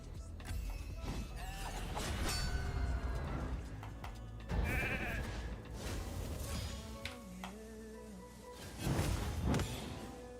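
Sheep bleats from a polymorph spell in a live arena video game battle, several wavering cries scattered among whooshes and mechanical game effects, fairly loud and without speech.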